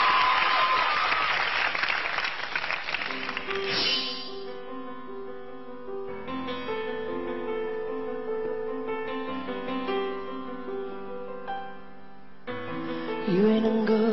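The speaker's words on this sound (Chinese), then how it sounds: "掌声鼓励" Loud audience applause and cheering on a television variety show fills the first four seconds, then fades as a soft, slow love-song melody begins and carries on alone.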